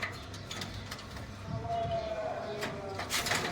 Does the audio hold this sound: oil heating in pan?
no